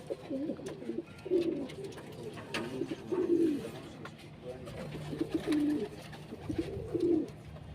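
Pigeons kept for sale at a home loft cooing, several rounded, rhythmic coo phrases repeating close by, with quieter background noise between calls.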